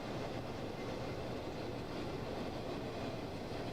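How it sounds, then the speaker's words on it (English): A locomotive rumbling past, a continuous broad roar with steady low-end weight and no breaks, heard without talk. "you can hear the locomotive drive in the office"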